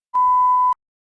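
Steady electronic test beep marking the start of preparation time in a TOEFL speaking practice test, one clean tone about half a second long, loud and alone, followed by silence.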